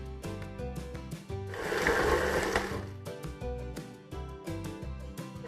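A stand mixer fitted with a paddle attachment mixes cookie dough, giving a quiet mechanical whir with a rhythmic knock and a louder, rougher churning burst in the middle.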